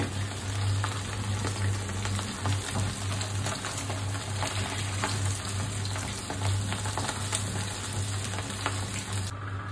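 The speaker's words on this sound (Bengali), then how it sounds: "চলো মাছগুলো ভাজা হয়ে গেছে" Pomfret fish fry in hot oil in a pan with onion and garlic, a loud, dense, continuous sizzle and crackle that stays close and steady throughout, with no talking.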